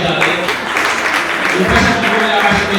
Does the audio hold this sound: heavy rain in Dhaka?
no